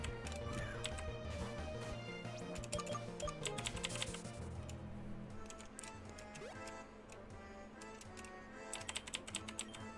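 Rapid, continuous tapping on a broken membrane keyboard pressed directly with no switches or arrow keys, dense irregular clicks close up and fairly quiet throughout, with no voices.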